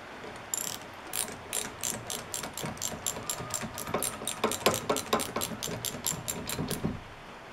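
A nut being tightened with a ratcheting tool: a quick, even run of crisp clicks goes on for several seconds, close and fairly clear, with no talk.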